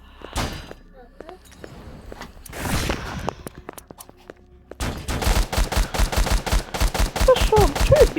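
Bursts of video-game gunfire, scattered shots at first, then a rapid, loud stream of repeated fire, with a voice talking over the action.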